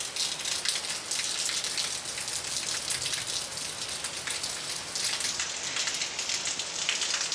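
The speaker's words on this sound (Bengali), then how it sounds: "বলতে বলতে বৃষ্টি কমে গেল তো।" Steady rain falls outdoors, a dense, continuous hiss of drops pattering on surfaces, fairly loud and even throughout with no voices.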